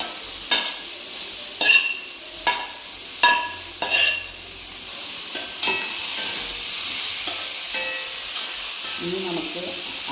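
Cooked vegetables are stirred into a simmering stew masala, with a spoon scraping the pot in several distinct strokes over a steady sizzle and hiss of steam.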